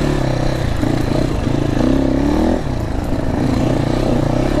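A GPX TSE250r two-stroke motorcycle engine revs close by, a loud buzzing drone that rises in pitch, peaks briefly, then drops back to a rattly idle-like hum.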